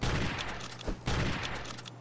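Rapid bursts of gunfire from the Deserter character in the Secret Ponchos video game, loud and dense shots repeating in quick succession across the whole stretch with no talk over them.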